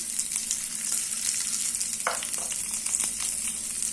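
Onions, dry red chillies and mustard seeds frying in oil for a toor dal sambar, a steady close sizzle with light crackles and a couple of brief stirring scrapes, no talking.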